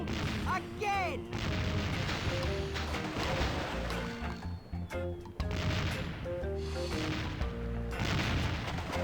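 Cannon fire in the adventure game The Curse of Monkey Island: heavy booming blasts and crashes repeat through the scene, loud and close, mixed with character voices shouting.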